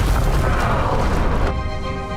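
In Hogwarts Legacy, an Incendio fire spell goes off as a loud, booming burst with a crackling rush in the first second and a half, then dies into a ringing tonal tail.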